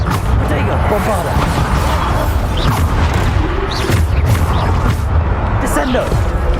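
Repeated Bombarda blasting-spell explosions in the video game Hogwarts Legacy, loud booming thuds one after another over a constant roar, while a voice calls out spell names throughout.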